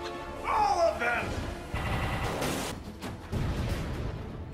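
Rapid gunfire and crashing blasts in the game Lego Marvel Avengers, a dense busy burst of action sounds running under overlapping character dialogue.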